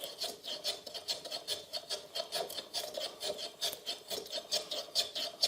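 Hand rasping of a wooden shoe horn being shaped, a rhythmic series of rough scraping strokes, about a dozen quick back-and-forth passes, close and fairly quiet with no talk.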